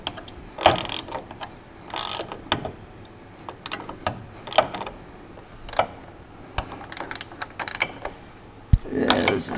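A ratchet spins a nut down on the rear sway bar of a Porsche 944 with an LS swap, in repeated bursts of quick clicking separated by short pauses, close up.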